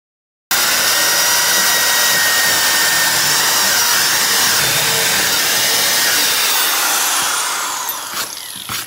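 A power drill bores holes in wood, a loud, steady whining drone that starts abruptly and runs continuously for several seconds before winding down near the end, close to the microphone.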